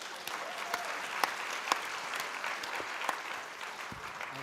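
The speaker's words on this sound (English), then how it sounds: "Mums and dads, let's give them another round of applause" Audience of parents applauds children after a performance, a steady wash of clapping with a few sharper claps standing out, fairly close and moderately loud throughout.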